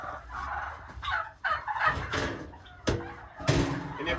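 Farm turkeys gobble close by in repeated bursts, mixed with scattered knocks and a few clanks.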